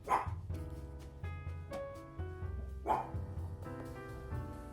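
A dog barks a few times in short bursts over a steady musical backing, fairly close and loud.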